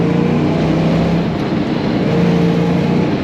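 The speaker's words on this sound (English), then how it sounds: "Very strong running car." A 1962 Chevrolet Corvette Convertible with a four-speed manual running on a windy day in Minnesota, its engine a loud, steady broadband roar with a low hum, mixed with wind noise and no talking.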